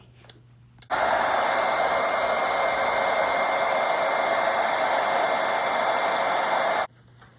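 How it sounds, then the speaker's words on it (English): Hair dryer blowing on a watercolor painting of poppies, a loud, steady close whir that switches on after a moment, runs about six seconds, then cuts off. "So I'm going to blow dry it now."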